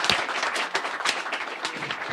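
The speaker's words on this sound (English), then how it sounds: "please give us a round of applause for Steve" An audience at a carbon forestry field day applauds the host, with a brief burst of scattered hand clapping from a small outdoor crowd, moderately close.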